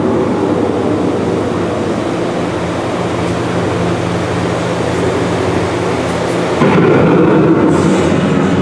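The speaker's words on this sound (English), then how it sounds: "The approaching storm may seem violent and destructive to us" A rumbling thunderstorm effect rolls through a theme park boat ride, a loud, continuous low roar that swells and brightens near the end.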